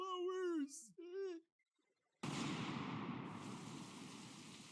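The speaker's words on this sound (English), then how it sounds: "Rain." Steady rain pours down in an animated show, a dense hiss that cuts in suddenly after a brief child-like voice and a short pause, then holds loud and even to the end.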